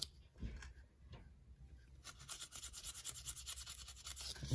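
Dryer sheet rubbed briskly over a plastic scale model coated with floor gloss, a soft close swishing scrub that grows denser and steadier in the second half.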